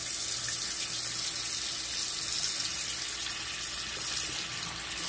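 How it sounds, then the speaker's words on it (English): Cold tap water runs steadily into a bowl for rinsing chicken, a continuous hissing splash with no talking. "We're gonna put some cold water in here right quick."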